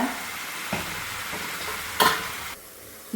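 Tomatoes sautéing in a pan for a village-style chicken curry, with a soft, steady sizzle and occasional scrapes and stirring knocks, one sharper clatter near the end.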